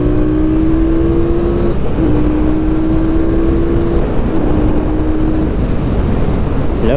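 A QJ Motor SRV550 twin-cylinder motorcycle engine pulls steadily under acceleration, its droning note rising through three climbs with brief dips between shifts, loud and continuous against wind noise.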